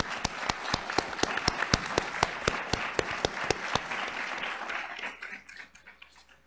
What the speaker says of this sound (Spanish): Les damos la bienvenida y un fuerte aplauso,